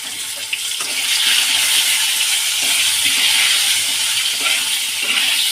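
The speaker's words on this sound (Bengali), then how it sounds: "দেখুন বন্ধুরা, আমি আলু আর বেগুন তেলের মধ্যে ছাড়ছি।" Potatoes and eggplant sizzle in hot oil for a fish dish, a loud, continuous hissing fry that stays steady and close throughout with faint bubbling texture.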